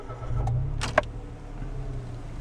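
A 2017 Mitsubishi Mirage ES, a small rental hatchback, starts with a brief cranking burst that settles into a steady low idle hum, with a faint click beforehand.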